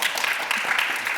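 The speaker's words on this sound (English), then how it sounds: "I think that deserves a round of applause first." An audience at a panel discussion claps together in a short burst, a dense, steady wash of applause heard up close for about a second.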